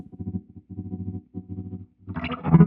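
Sparks analog harmonic processor giving a sputtery, record-like tone shaped by an LFO: choppy, pulsing low-mid bursts broken by short gaps, swelling into a brighter, louder grainy burst at the end.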